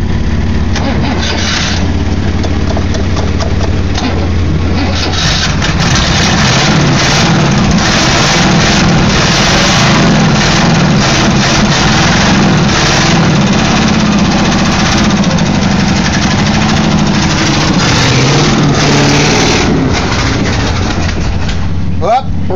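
A 1964 Chevy Impala state patrol car's engine running loudly and continuously at idle, close by, with a rough, steady rumble throughout.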